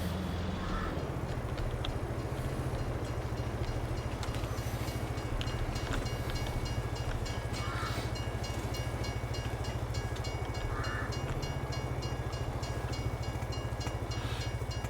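A train rolls along a railroad in the video game Farming Simulator 22, a steady low rumble with faint clicking and brief higher tones, constant and unbroken throughout.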